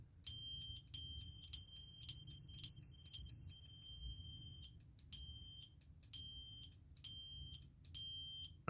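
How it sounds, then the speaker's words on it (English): Electronic beeping in the Magic of Myth game, a series of sharp, repeated high tones in quick bursts with short gaps, clear and alone over a low background hum. "once that beeping's reached its high point, but you want to go higher, it just changes the pitch of the beep"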